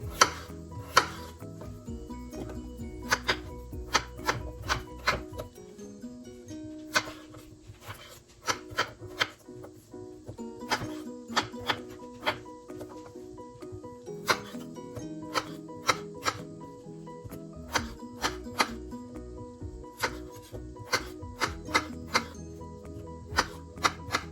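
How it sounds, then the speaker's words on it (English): A knife chops vegetables from a CSA box into small pieces on a cutting board, crisp close thuds in quick irregular runs with short pauses between batches, no talk. "I'm just gonna cut these into small-ish pieces"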